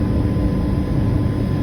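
A jet airliner's engines rumble on the ground at San Francisco Airport before takeoff, a loud, steady low roar with an airy hiss that holds without a break and no voices over it.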